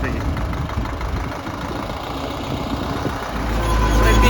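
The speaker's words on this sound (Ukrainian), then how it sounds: "бачите трактор" A YuMZ tractor engine runs with a steady low rumble and knocking chug, close by, straining on a steep slope with an AG 2.4 implement, swelling louder near the end as it revs up.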